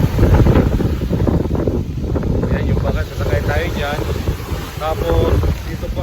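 Strong typhoon wind batters the microphone by a pier in Romblon, a loud continuous roar and buffeting throughout, with a person talking intermittently over it.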